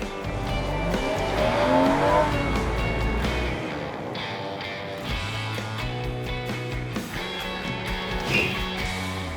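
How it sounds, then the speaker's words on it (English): A low-slung custom sports car drives hard, its engine revving and shifting through gears with brief tire squeal, loud and close throughout with no talking. "I've never driven a car like this. It's like tight, it's super low to the ground."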